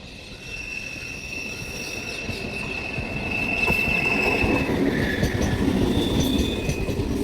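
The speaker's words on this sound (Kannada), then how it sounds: "ನಮ್ಮ ಟ್ರೈನ್ ಬಂತು." A train pulls into a station on the route to Bangalore, a steady rumble and rattle of wagons rising as it nears, with thin wheel squeals drawn out over the roar, loud and close throughout.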